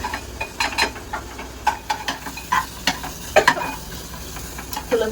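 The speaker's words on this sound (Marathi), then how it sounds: "सगळे फ्रेश इन्ग्रेडियंट्स आपण टाकतो आणि मिनिटभर परतून घ्यायचं आहे." Fresh ingredients sauté in hot oil with tulsi in a home kitchen, a soft continuous sizzle under frequent clattering, scraping stirs that come in quick bursts throughout, with no talking.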